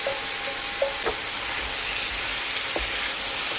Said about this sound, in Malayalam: ഇനി അതിലേക്ക് വേവിച്ച് വെച്ചിരിക്കുന്ന കൂർക്ക ചേർക്കാം.